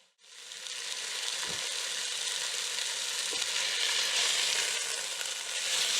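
Salted and peppered cod pieces browning in a frying pan, a steady loud sizzle that starts abruptly and holds for several seconds, with a couple of faint low knocks.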